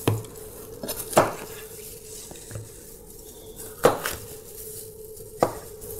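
Knife chops on a cutting board while ingredients for kombe meat are prepared, sharp isolated strikes spaced irregularly over a low kitchen background, fairly close and loud.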